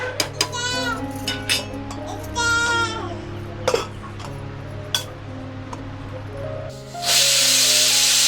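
A pressure cooker whistles while paneer pulao cooks, first with clinks and kitchen bustle and brief talk, then a loud sustained steam hiss bursting out near the end.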